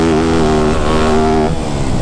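A Yamaha YZ250F four-stroke dirt bike engine revs loud and close, holding a steady high pitch before dropping off and picking back up near the end, with no talking.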